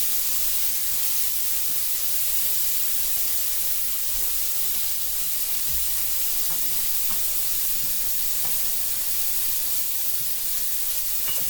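Scallops sear in a hot pan beside broccolini, making a continuous, even sizzle and spitting hiss close by, with a few faint clicks of the pan being handled.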